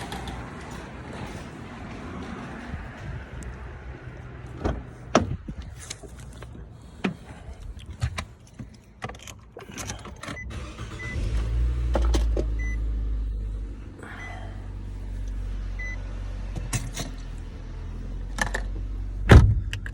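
Getting into a car with keys jangling and handling clicks, a door opening and thudding shut, then a low rumble inside the cabin with a few more sharp knocks and a final clunk near the end, all close and with no talk.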